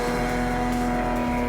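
Race cars, including one self-built with his wife for Mark cars, roar steadily around a circuit with a sustained droning engine note and a brief low dip near the end, continuous and close with no talk.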